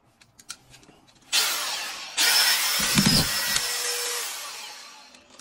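A Makita cordless collated screwdriver driving a screw, a few light clicks followed by a loud, close, steady high whir lasting several seconds that deepens briefly mid-run, then winds down.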